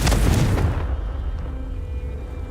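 A Confringo spell blast in Hogwarts Legacy lands as a loud, booming explosion up front and then fades into a low rumbling tail, with no talk over it.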